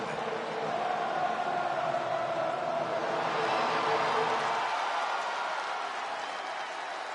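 A large arena crowd in the WWE 2K25 wrestling video game roars and cheers for Seth Rollins' entrance, a dense, steady wall of applause and shouting that fades slightly toward the end.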